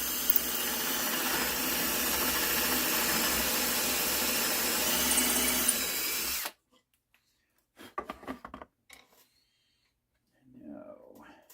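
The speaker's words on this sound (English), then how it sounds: "we drill away." A power drill boring into a part in a workshop runs loud and steady for about six seconds, then stops abruptly, followed by a few sharp clicks and a faint voice.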